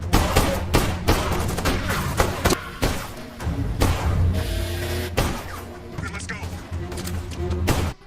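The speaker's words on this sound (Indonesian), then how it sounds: "terkena selongsong peluru dari pistol yang ditembakkan oleh Simon" Gunfire from a pistol in a 2016 action film diamond-heist scene, heard as dense, loud bursts of shots and thuds mixed with music and effects throughout.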